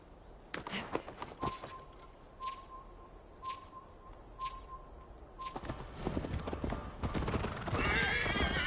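Horse hooves clip-clop and a horse whinnies in Assassin's Creed Valhalla, with sharp hoofbeats landing in irregular bursts, a brief neigh, and game ambience that rises toward the end.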